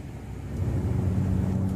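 A 2015 Nissan Frontier pickup truck on the move, giving off a steady low engine and road rumble that swells slightly after the start and holds close and even, with no talking.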